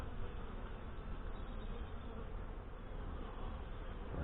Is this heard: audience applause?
no